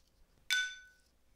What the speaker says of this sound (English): you need to tap it with a non-metallic device, and it should have a metallic sound to it.